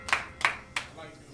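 Three sharp, separate hand claps ring out close by at a rap battle, evenly spaced with short gaps between them, then the sound fades into quiet room noise.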